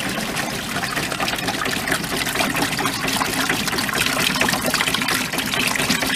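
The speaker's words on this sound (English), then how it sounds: "So now we're going to dispense the sanitizer." SaniServ milkshake machine dispensing sanitizer liquid, a steady, close gushing pour that runs continuously without break, with no talk.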